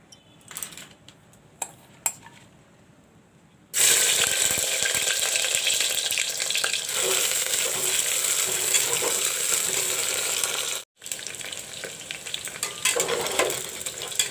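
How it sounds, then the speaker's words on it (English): Okra (bhendi) frying in hot oil in a home kitchen for sambar: a few quiet clinks, then loud, steady, dense sizzling that briefly drops out and resumes, with no talking. "First of all, I will fry the bhendis. First of all, I'll put the oil"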